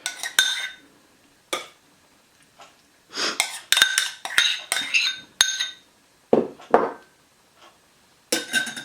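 Cream cheese and hot sauce stirred in a bowl for a buffalo chicken quesadilla filling, with sharp spoon clinks and scraping against the bowl in irregular bursts separated by brief quiet gaps, close by.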